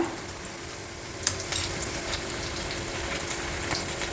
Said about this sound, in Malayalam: വെളുത്തുള്ളി ഇട്ടു പച്ചമുളക് ഒരു പച്ചമുളക് നെടുക കീറിയിട്ടാണ് ഇട്ടത്